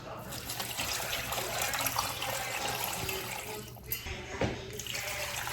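Tap water runs into a big jar in a home kitchen for canning chicken broth, a continuous rushing splash that is steady and fairly close, with a couple of brief dips and gurgles as the jar fills.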